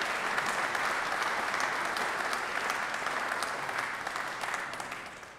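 An audience applauds the children's municipal council during the mayor's New Year address in Roubaix, with steady, full-bodied clapping that carries on evenly before tapering off near the end.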